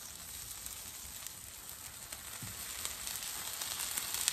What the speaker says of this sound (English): You hear it sizzle a little bit.